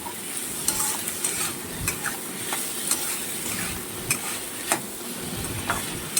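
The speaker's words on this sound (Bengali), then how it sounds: "এটা এখন ভালোভাবে নাড়াচাড়া দিতে হবে, যাতে ডালটা কোনোভাবে তলায় না লেগে যায়" Dal cooked with meat is stirred in a pan over a constant bright sizzle, with the spoon scraping and knocking the pan every second or so, close and fairly loud, no voices.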